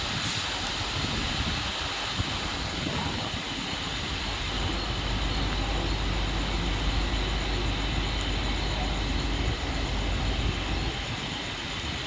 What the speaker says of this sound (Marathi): प्लॅटफॉर्म क्रमांक 2 पर आई हुई लोकल 11 बजकर 13 मिनट की कुर्ला जाने वाली धीमी लोकल है